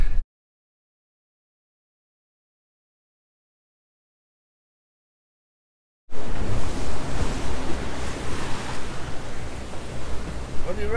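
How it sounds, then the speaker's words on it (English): Strong wind at sea on a boat heading out for swordfishing far offshore, a broad roaring rush that starts abruptly after several seconds of silence and stays loud and steady with gusting surges. "So it's windy"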